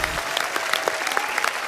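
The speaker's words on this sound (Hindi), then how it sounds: "इनके लिए तालियां।" Studio audience on a comedy talk show breaking into loud, sustained applause, dense clapping from a large crowd that carries evenly throughout.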